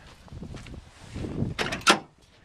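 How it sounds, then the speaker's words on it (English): Doors of a 1980 Oldsmobile Cutlass Brougham being opened, with soft latch clicks, creaks and a sharper unlatching clunk close by, over low ambient rumble. "let me open up the doors"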